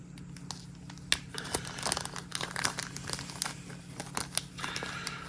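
Close, soft crinkling of a thin plastic zip bag holding a coin, irregular rustles and crackles handled near the ear, with no talking.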